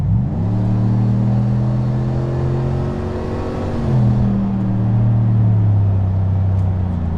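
A 6.2L Chevrolet truck with an upgraded exhaust idles, then accelerates hard with a loud, deep engine drone that rises steadily in pitch, eases off briefly, then climbs again close by.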